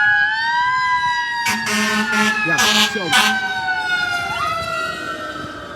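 A fire engine siren north of Fort Myers in the aftermath of Hurricane Ian, a loud wailing tone rising and falling while the truck passes close by, with air-horn blasts and someone speaking briefly over it.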